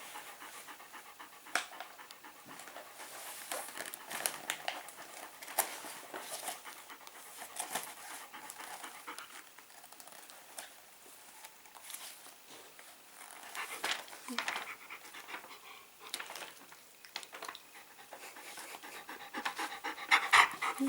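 A dog pants rapidly and steadily for a long stretch, breathy and close, with occasional small whimpers and people talking now and then.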